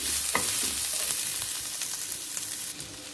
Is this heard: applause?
no